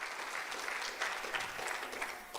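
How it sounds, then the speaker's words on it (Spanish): A church congregation claps together in praise to the Lord during a Spanish-language sermon, a fairly quiet, continuous wash of applause with a few brighter bursts. "Ahora denle un fuerte aplauso al Señor"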